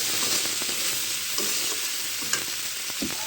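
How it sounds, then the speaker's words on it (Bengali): Small boga fish frying in a pan, a steady close sizzle with scraping stir strokes from a spatula through the whole stretch and a few sharper clicks. "মাছটা কষিয়ে নিলাম।"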